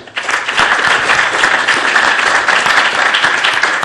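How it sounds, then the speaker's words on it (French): An audience at a scientific conference day claps in a dense, loud, steady burst of applause that starts abruptly and keeps going without talk. "Bon voilà, on va vous s'applaudir encore une fois."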